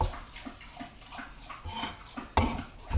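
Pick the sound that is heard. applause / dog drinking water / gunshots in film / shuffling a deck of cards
dog drinking water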